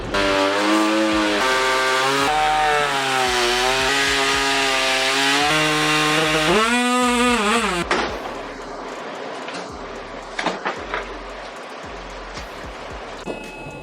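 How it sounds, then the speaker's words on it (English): Multi-tool cutting into the plastic front bumper of a 4Runner, a loud continuous buzzing drone with shifting pitch for about eight seconds, then stopping and leaving scattered clatter and handling noises. "Then using a multi-tool, I started cutting."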